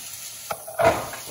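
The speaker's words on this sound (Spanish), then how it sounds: "le eché una cucharada y media de mantequita, miren, que ya está bien calientita. Vamos a echar la cebolla." Onion and nopales hit hot melted butter in a pan, bursting into a sudden close sizzle that swells partway through and keeps crackling steadily.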